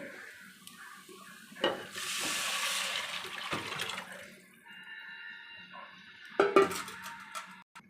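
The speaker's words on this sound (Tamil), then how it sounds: "நம்ம கலக்கி வச்சுருக்கிற புளி கரைசலை ஊற்றிடுவோம்." Tamarind water is poured into a sizzling chicken gravy, a sudden rushing hiss and splash that settles into bubbling and a few clinks, no voices.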